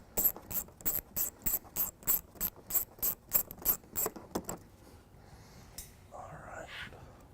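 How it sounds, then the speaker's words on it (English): Ratchet wrench backing out 8mm bumper bolts on a 2011 Mini Cooper Countryman, a fast run of about fifteen sharp, evenly spaced clicks close to the mic, then a quieter stretch of faint handling noise. "we'll be removing these two 8mm bolts right here"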